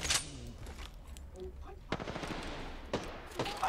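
Gunfire in the Apex Legends battle royale game, bursts of rapid shots and sharp cracks at moderate distance, mixed with player voices talking.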